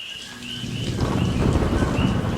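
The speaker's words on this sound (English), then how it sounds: "The rain is coming down hard." Heavy rain pours down steadily inside a cave in Hawaii, a dense broadband wash that thickens after the first second, with faint bird calls early on and a low rumble that fits distant thunder; nobody talks.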